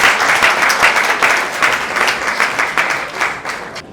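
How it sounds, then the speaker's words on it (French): Audience applause at a ceremony honoring a dignitary, loud, close, sustained clapping from a crowd that tapers off slightly toward the end. "On acclame très fort."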